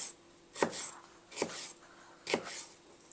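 A knife chops through peppers on a board while ackee and saltfish is prepared, giving three distinct crisp cutting strokes spaced about a second apart, close and fairly quiet, with no voices.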